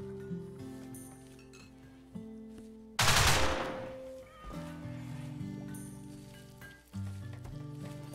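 Gunfire in RimWorld, a colony-building game: a sharp, loud burst at about three seconds with a hissing tail, over steady game music with tonal notes, plus smaller clinks and hits before and after.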